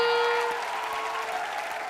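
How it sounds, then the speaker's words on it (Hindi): Studio audience applause during an award segment of the Indian comedy show Comedy Nights With Kapil, a dense clapping wash that starts loud over a fading music sting and continues steadily to the end. "एक बार जोरदार तालियां"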